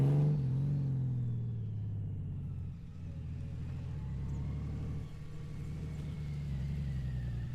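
Honda Goldwing DCT motorcycle engine during a slow tight turn with the rear brake dragged, a steady low rumbling idle-level drone that briefly rises at the start and dips midway, close and continuous.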